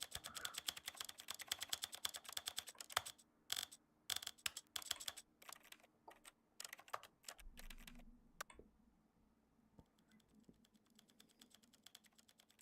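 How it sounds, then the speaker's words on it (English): Rapid clattering keystrokes on a computer keyboard, typed in quick bursts with brief pauses during a Stanley Parable Ultra Deluxe play session, close and crisp, fading into a quieter stretch near the end. "At least we got some nice keyboard ASMR sounds"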